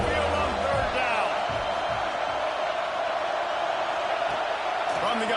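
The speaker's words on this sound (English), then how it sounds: "The Tide crowd roaring noise down on the Saban field on third down." A packed college football stadium crowd at an Alabama game against Tulane roars on third down, a dense, loud, continuous wall of noise.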